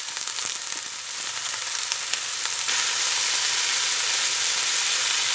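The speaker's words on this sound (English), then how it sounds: "just soften these onions up. So we'll just want to saute these, put our washed and cut spinach" Chopped onion and washed, cut spinach sauté in a pan for a börek filling, giving a steady, close hiss of frying that holds even throughout with light stirring clicks.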